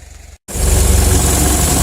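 A bulldozer used for logging on timber land has its engine idling with a low rumble, then after a brief cut it roars louder and runs steadily at close range.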